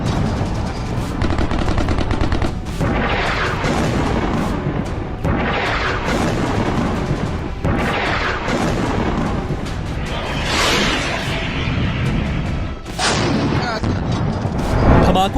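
Gunfire and explosions from the war in Sudan, dense repeated bursts of shots and heavy booms crowding one another, loud and continuous with some rapid automatic fire.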